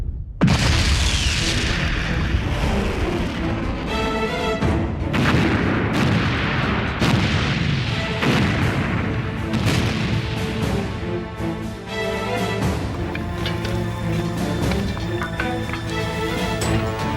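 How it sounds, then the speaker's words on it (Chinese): Long-range rocket artillery opens fire in a Chinese war drama battle: a loud sustained barrage of heavy booms and blasts rolls continuously, with repeated launches and explosions layered under a dense, dramatic soundtrack. "远火以15坐标，请求开火"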